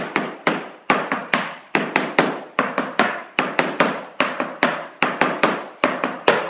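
Irish step dance shuffles with both feet, hard shoe toes tapping on a wooden floor in quick irregular clusters of sharp, close, loud clicks, about twenty strikes with brief gaps and no talking.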